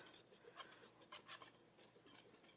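A spoon stirs keto peanut butter chocolate chip bar mix in a bowl, making quiet, rhythmic scraping and light clinking strokes at a close distance.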